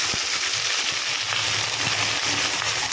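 Chopped onion tossed into hot oil already crackling with cumin seeds for a chicken curry, giving a loud, continuous close-up sizzle with small pops scattered through it.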